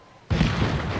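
A sudden deep boom bursts in after a quiet moment in Ghost of Tsushima, then rumbles on as a loud, sustained roar of explosions with no pause.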